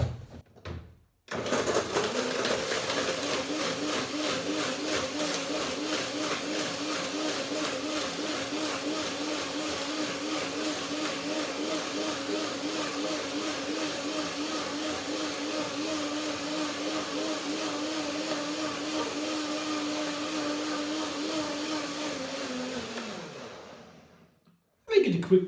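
A blender whirs steadily for about twenty-two seconds while blending walnut cream with water, with a loud, close motor drone that starts abruptly and winds down at the end.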